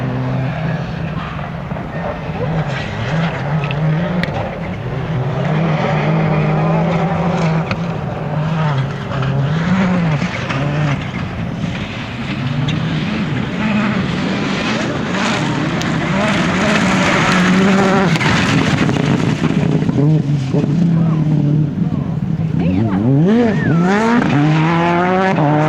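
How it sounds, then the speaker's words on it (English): At Rally Rushmoor 2005, rally cars race on an asphalt section around a tight hairpin, with loud engines revving and braking and tyres squealing as they pass close by, under continuous commentary. "And John Ingram flying on his way on the asphalt section back towards us here, around the very difficult hairpin"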